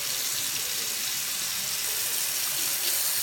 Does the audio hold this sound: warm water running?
yes